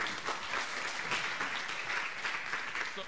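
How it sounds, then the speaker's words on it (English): Sustained applause from an audience at a live grand finals event, dense steady clapping filling the room evenly for the whole stretch without a break. "I think he deserves a second round of applause"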